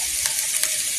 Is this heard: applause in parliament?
no